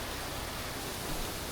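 Makjang waterfall pours through a rocky gorge where a cliff blocks the valley, making a steady, dense hiss of rushing water that fills the short stretch evenly, close and constant, with no voices.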